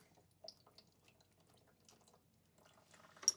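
Coolant dripping and trickling from the drain bolt of a Honda CRF300L, faint sparse drips building to a short splashy burst at the end, close and quiet.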